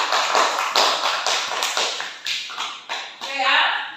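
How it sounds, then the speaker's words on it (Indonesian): Classroom applause for a student group after their presentation, a burst of clapping that rises and falls over several seconds, with the claps fairly close and filling the room. "Beri aplaus untuk kelompok 2."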